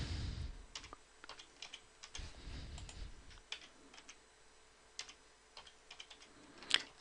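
Keys clatter on a computer keyboard as a Cisco-style crypto key generation command is entered while setting up SSH on a network router, a quick irregular run of close, crisp taps with no talk.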